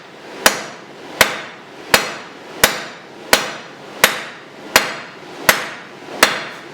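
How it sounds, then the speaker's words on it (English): A blacksmith's power hammer with a round die forges a reverse taper on a hot bar, nine loud, evenly spaced, ringing blows, each decaying briefly before the next. "That was all with the round die of the hammer"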